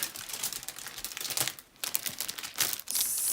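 Plastic packaging of Halloween-themed craft kit embellishments being opened, with continuous close crinkling and rustling, bursts of tearing and a brief pause midway, with no talking.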